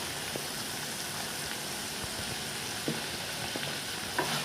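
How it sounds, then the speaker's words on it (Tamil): Banana stem dish ingredients sautéing in a pan, a steady hiss of frying with soft stirring scrapes and occasional pops, close and alone. "இப்போ ரெண்டும் சேர்த்து நல்லா வதங்கிட்டங்க"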